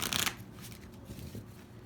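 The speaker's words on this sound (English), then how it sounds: "let me shuffle this one more time" A deck of tarot cards is riffled and shuffled up close, starting with a loud, dense burst of card flutter before trailing off into softer handling rustles and a few light flicks.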